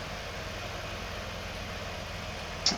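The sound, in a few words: small tractor engine running in farming video game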